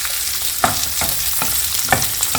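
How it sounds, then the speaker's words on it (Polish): Asparagus sizzling steadily in a frying pan, with a utensil stirring it in a few regular scrapes and clacks, close and fairly loud, no voices. "Zmniejszam trochę gaz i podsmażam do uzyskania miękkości przez szparagi."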